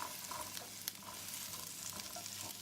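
Chopped okra, washed and dried, sizzles steadily in a frying pan for chicken bhindi, a continuous close hiss with faint stirring scrapes and no talking.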